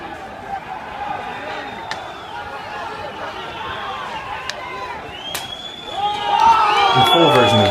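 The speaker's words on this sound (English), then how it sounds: "You can hear the crowd cheering as they set the building ablaze." Crowd of people at the 2 May 2014 Odessa unrest cheering and shouting as a building is set on fire; a steady din of voices, with loud, excited shouts and cheers rising near the end.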